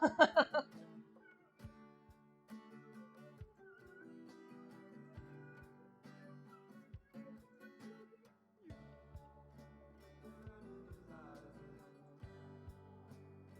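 A black cat meows in the video game Luck be a Landlord, a few short cries near the start followed by soft plucked game music and clicks at low volume.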